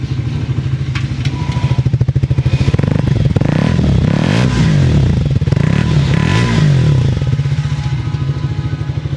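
A Triumph 350cc cafe racer motorcycle engine revs loudly and close up, its deep bassy exhaust rising and falling through several throttle blips over a steady throbbing idle.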